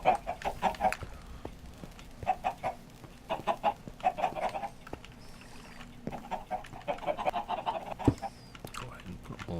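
Chickens in a video game set in a block-built world, with repeated bursts of clucking and squawking recurring through the clip at a steady moderate level, and a voice talking now and then among the birds.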